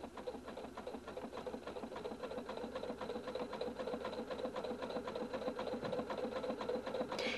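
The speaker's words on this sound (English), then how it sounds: "snap on the C foot and begin sewing at the bottom of the buttonhole" A Husqvarna Viking Designer 1 sewing machine stitches a buttonhole with a C foot in a fast, even mechanical patter. It sounds close and steady and runs without a break.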